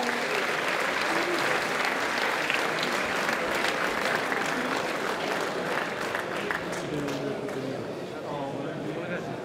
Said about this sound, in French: J'aimerais qu'on applaudisse très fort João Francisco